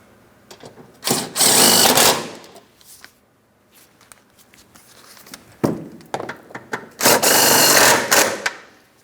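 A power tool snugs bolts during a serpentine belt replacement on a 2008-2016 Chrysler Town & Country 3.8L V6, running in two loud whirring bursts of about a second each, separated by quieter clinks and handling noises.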